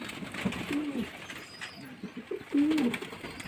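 Pigeons feeding from a bowl give low, soft coos in two short bursts, fairly close, with faint background noise and no talk.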